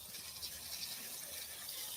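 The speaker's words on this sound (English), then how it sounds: "So I'm just watering this bed here." Water from a hose sprays onto a garden bed on a Florida farm, a steady broad hiss of spray without pause for the full two seconds, close and fairly even in level.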